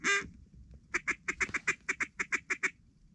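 Wild ducks call in a rapid run of about a dozen evenly spaced quacks, loud and close, on an Alberta duck and goose hunt; a single brighter call comes first, then a short pause before the steady series.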